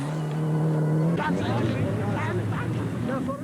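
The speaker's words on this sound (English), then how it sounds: "This is Abdallah Omar in a Mitsubishi, very nearly rolling, but holding it" A Mitsubishi rally car at the Dubai Rally, nearly rolling, drones with a steady high engine roar while a commentator's voice runs over it.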